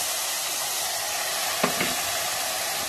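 Frying in a pan on a kitchen stove while making sprouted rice, a steady loud sizzling hiss throughout, broken once by a couple of quick clinks of a utensil.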